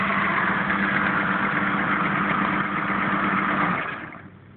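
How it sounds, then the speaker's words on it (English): A small 100-watt motor drives a generator with a steady, loud mechanical whirr and hum that runs evenly, then winds down and fades near the end, with no voices. "This tiny little motor right here drove that generator to make all that power."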